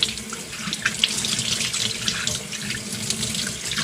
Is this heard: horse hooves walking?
no